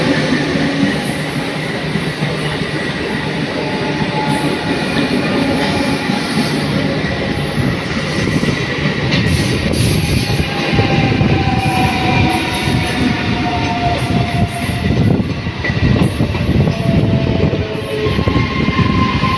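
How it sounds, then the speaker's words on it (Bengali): A brand-new pink ICF local train rolls into a small Indian Railways station toward Howrah, a steady loud rumble of wheels and carriages with clattering rail noise and faint wheel squeal building near the end, no voices. "প্রথমটা এখন আসছে বর্ধমান সাইড থেকে হাওড়া যাওয়ার দিকে মির্জাপুর বাকিপুর স্টেশনে ব্র্যান্ড নিউ পিঙ্ক আইএসএফ"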